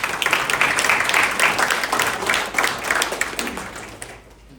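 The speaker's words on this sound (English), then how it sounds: "Round of applause for Mr. Kim" Audience applause at a mayor and council meeting in Palisades Park, a steady patter of many hands clapping at moderate level that tapers off near the end.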